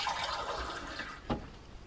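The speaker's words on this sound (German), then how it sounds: "Und jetzt werden wir hier ein Wasser reinlassen." Water running into a camper van's water tank, a steady hissing, gurgling fill that stays constant close by with a brief splash or knock partway through, no voices.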